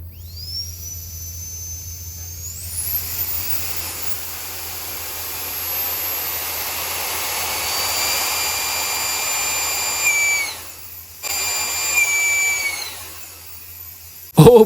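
Tiny electric ducted fan jet engine on a thrust test spools up with a rising whine to a loud, steady high-pitched scream, cuts out briefly, revs again, then stops with a sharp knock at the end.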